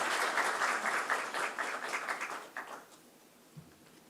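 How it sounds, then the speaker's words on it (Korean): Church congregation applauding at a Sunday service to encourage a member coming forward, a steady mass of clapping that fades out after about two and a half seconds, leaving a quiet room with a faint thump. "큰 박수로 한번 격려해 주시면 감사하겠습니다"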